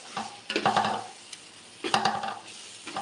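A spoon scrapes and clatters through basmati rice biryani frying in a pot, in two distinct stirring strokes over a soft sizzle. Nearby and moderately loud, with no voices.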